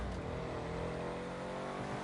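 A light weaponized vehicle with a mounted machine gun drives in GTA 5 Online, its engine a steady, dense, close roar throughout with no pauses.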